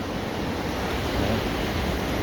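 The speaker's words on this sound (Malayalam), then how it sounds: "തിരമാലകളൊക്കെ ഇങ്ങനെ ഉണ്ടോ" Ocean waves break and wash continuously at Thalassery beach in Kerala, a steady broadband roar with some wind noise and no voices.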